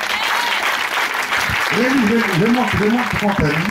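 A church congregation claps in a loud, sustained burst of applause, and a voice speaks over it in the second half.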